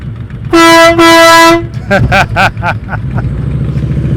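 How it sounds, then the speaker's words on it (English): A loud train horn fitted on a motorcycle gives two long blasts during slow-speed riding practice, then stops. A few short voiced calls follow, with a low engine rumble running underneath. "He got a train horn on his motorcycle."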